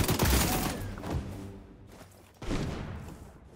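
An AK rifle fires in a first-person shooter video game: a loud burst of shots opens, then the sound fades and a second sharp burst follows partway through, with mechanical clatter between.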